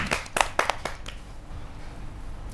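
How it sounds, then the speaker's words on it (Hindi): A small audience claps to welcome a poet at a Hindi poetry gathering: a handful of sharp, distinct claps near the start, then a faint room tail. "जोरदार तालियों से स्वागत कीजिए प्रीति कच्छल जी।"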